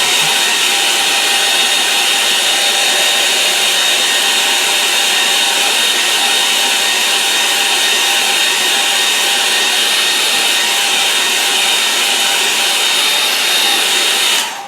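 Hair dryer blowing steadily on a watercolour painting of a moor, a loud close continuous whooshing roar held unbroken for the whole stretch before it cuts off at the end.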